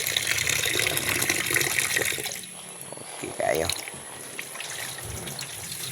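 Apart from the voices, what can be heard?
water running from a tap for rinsing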